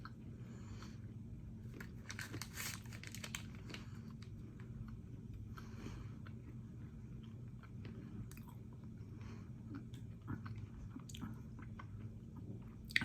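A dry, crumbly keto snack bar with caramel and coconut flavour is chewed close up, with faint, steady crunching and soft squishy bites over a low background hum.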